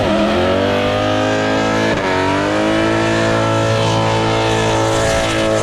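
An Audi B6 S4 engine fitted with long tube headers revs loudly and close up, holding a rich, steady drone with a brief dip and swell around the second mark, with no voices.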